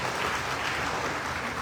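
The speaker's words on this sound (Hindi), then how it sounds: "जोरदार ताली बजाइए" Applause at an official ceremony in Bhopal for a solar and wind energy project, a steady wash of clapping from a crowd that stays even and moderately distant throughout.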